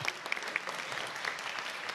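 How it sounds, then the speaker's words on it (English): Applause rises in a large council chamber at a senior-level international meeting, honouring Janet and a panel; a broad, moderately distant wash of clapping with a few sharper claps standing out. "A warm round of applause for Janet and the panel"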